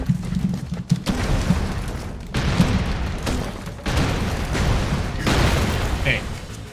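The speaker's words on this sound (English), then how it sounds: "Grenades aren't cutting it." Grenade explosions in the side-scrolling action game Broforce, a run of booming blasts and bursts in quick, irregular succession, loud and dense, with a voice talking over them.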